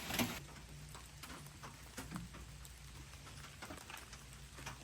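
Rain falls steadily through woodland trees during a squirrel hunt, a soft constant patter with scattered sharper drips and drops striking leaves, faint and distant, with no voices.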